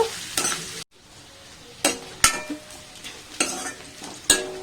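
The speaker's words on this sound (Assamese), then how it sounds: "পিঁয়াজখিনি কালাৰ চেঞ্জ হোৱালে ভাজিব" Onions sizzle in a pan for an Assamese duck curry with ash gourd, as a spatula scrapes and clinks against the metal in separate strokes, with a brief drop to near silence early on.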